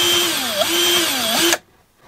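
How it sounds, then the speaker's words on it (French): A cordless screwdriver unscrews the screws on a failed bike battery case: two close, loud whirring bursts with a brief pitch dip between them, then a sudden stop into quiet. "j'ai une visseuse, je vais tout dévisser"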